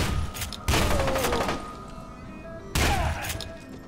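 In a video game, a pump-action shotgun fires two loud blasts a couple of seconds apart, each followed by a decaying rumble and a faint rack of the action.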